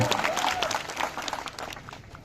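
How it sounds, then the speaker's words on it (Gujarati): A village crowd claps enthusiastically for the nation's soldiers at an outdoor community event, a dense burst of applause that gradually fades, with a brief whistle-like tone near the start. "એક આપણા દેશના સૈનિક માટે જબરજસ્ત તાળીઓ થઈ જાય"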